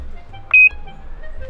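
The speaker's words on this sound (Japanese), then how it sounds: "万が一一酸化炭素が発生した時にアラームで教えてくれるセンサー" A Japanese-made Cosmos carbon monoxide sensor used with a stove for winter camping gives one short, high-pitched electronic beep, clear and close, over a faint low background hum.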